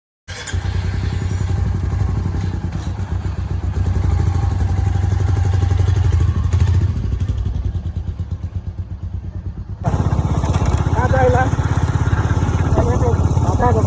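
A motorcycle engine runs steadily throughout, a continuous loud drone with a shift in tone partway through as the ride goes on.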